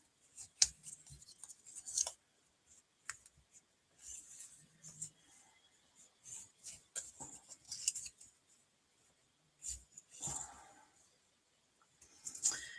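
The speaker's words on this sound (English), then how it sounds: "we're going to burnish those with our bone folder, all as mountain folds." A bone folder burnishes mountain folds in cardstock for a Stampin' Up! diamond column pop-up card, with soft scraping strokes in short bursts separated by quiet gaps, close and faint.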